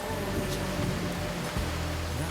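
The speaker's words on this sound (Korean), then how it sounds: "하염없이 내리는 비" Heavy, ceaseless rain pours outdoors on a street in Korea, a dense unbroken wash of hiss and spatter held at a steady, fairly loud level throughout, with faint background murmur beneath.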